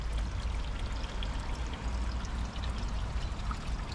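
Water trickles and pours steadily through a small gravity filter on a garden fish pond, a constant close flowing wash at moderate level with no voices.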